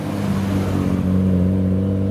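A Nissan R33 GTR in midnight purple rolls out of a Japanese car show, its engine a steady, close mid-pitched drone with a slight rise partway through.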